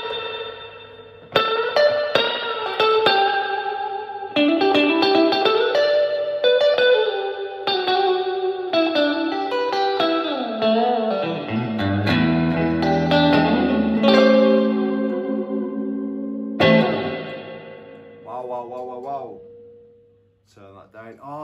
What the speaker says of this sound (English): Now we've also got a spring reverb, which is brilliant. So I'll just turn the reverb on full.